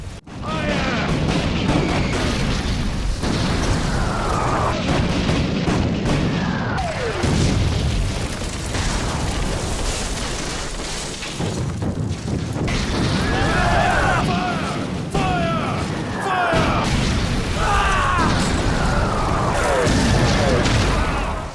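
A dramatized cannon bombardment of an Ottoman army camp at the 1683 siege of Vienna produces deep booms and rumbling blasts in a dense, continuous battle soundscape, with narration running over it.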